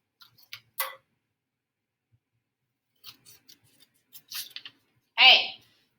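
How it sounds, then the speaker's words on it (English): A few crisp snips of scissors cutting paper, separated by short pauses, close by and moderately loud, ending with a brief scraping rustle. "we're going to take our scissors and we're going to cut until we reach the fold"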